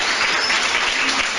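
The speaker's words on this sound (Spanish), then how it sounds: "Yo pediría un aplauso para ellas." A brief, dense burst of audience applause at a school radio event, loud and continuous for a second or so.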